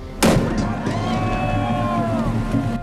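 A single sharp race-start cannon boom goes off near the start at the 2011 Ironman World Championship, followed by a lingering rumble and distant background noise.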